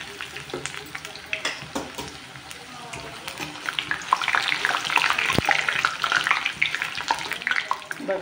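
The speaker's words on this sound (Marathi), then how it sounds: "म्हणून तेल कडकडीत तापलं की त्याच्यामध्ये केळी तळून घ्यायची।" Raw banana slices deep-fry in very hot oil for chips, a dense bubbling sizzle that swells louder partway through, with scattered sharp crackles and light stirring clinks close by.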